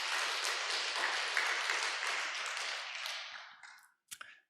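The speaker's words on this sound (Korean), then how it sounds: "박수 한번 쳐주시기 바랍니다" Applause from an audience, a dense wash of clapping that slowly thins out, followed by a couple of sharp taps.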